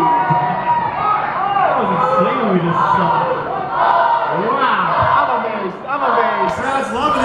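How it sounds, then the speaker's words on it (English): A wrestling crowd cheers and yells loudly throughout, with rising whoops and shouts mixed with commentators talking over the noise. "crowd's loving it."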